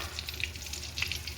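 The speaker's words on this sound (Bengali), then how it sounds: "এই চিংড়ি মাছ ভাজার তেলে আমি ফোড়নগুলো দিয়ে দিচ্ছি" Whole spices crackle and sizzle in hot oil left from frying prawns for a banana stem curry, a soft steady hiss with small popping spatters.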